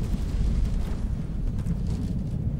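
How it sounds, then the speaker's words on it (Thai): A deep, rumbling explosion in the video game Cyberpunk 2077, a sustained low roar lasting a couple of seconds with no other sounds over it. "เอ้าระเบิดแล้วเออค่อยยังชั่วหน่อย"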